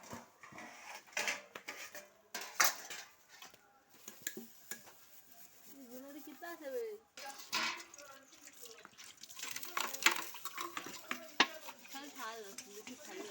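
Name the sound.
washing dishes by hand with cleaning powder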